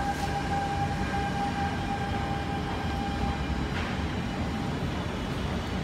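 MRT train running past a construction site, a continuous rumbling roar with a faint steady whine, close and unbroken throughout.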